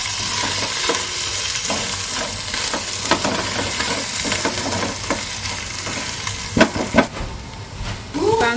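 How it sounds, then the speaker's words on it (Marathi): Onion, garlic and ginger sizzle and fry with biryani masala in a pan as a spoon stirs and scrapes them, with steady close frying hiss and irregular stirring knocks. "कांदा, लसूण, आले लसूण टाकलं होतं, छान परतून झालाय"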